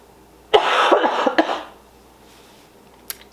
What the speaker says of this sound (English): Can't get rid of this cough.